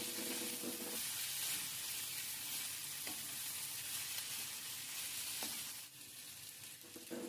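Sprouts fry with crushed garlic in a pan, making a dense, steady sizzle with a few soft stirring scrapes, close and even, easing slightly near the end, with no voices.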